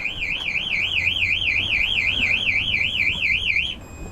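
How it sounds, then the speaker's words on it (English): A boat's radar alarm warbles steadily in a fast, high-pitched wobbling tone, continuous for several seconds over a low engine hum, then cuts off abruptly, at sea in fog. "I thought I'd let you hear what I've been having all night. That's the radar alarm."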